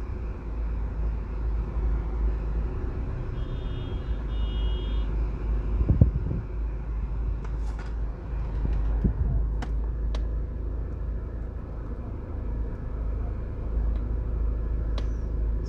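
Busy street traffic in Spanish Town, Jamaica, a transport hub crowded with taxis and buses: a steady low engine rumble runs throughout, with a couple of brief louder vehicle thumps and faint distant horn-like tones.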